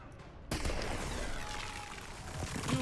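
Shotgun blast in the shooter game Outriders, a sudden loud boom followed by sustained noisy rumble and crackle, with faint further shots.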